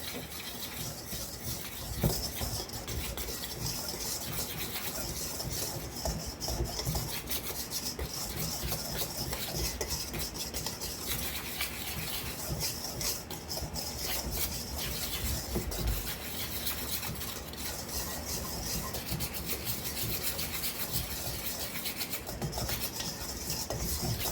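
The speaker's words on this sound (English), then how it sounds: "we're going to whisk this together" A whisk works salt into dry ingredients in a bowl for baked apple cider doughnuts, making a steady, quiet, close rasp of rapid scraping strokes that continues throughout with no talk.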